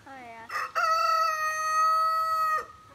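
A rooster crows loudly and close by, one long drawn-out cock-a-doodle-doo with a rising start and a sustained final note.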